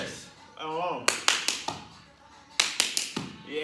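Three sharp hand claps repeated in two groups of three during an adapted sports class, with an instructor talking between them and another voice counting along.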